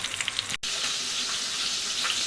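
Pieces of hare meat fry in hot oil in a pot, a steady close sizzle and crackle that continues after a brief break, with no talking.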